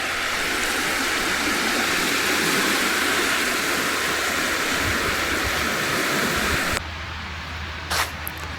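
Steady, loud surf washes continuously along the beach at Bukit Sematan Resort, a broad unbroken roar that cuts off abruptly near the end, leaving quieter background with a brief faint burst.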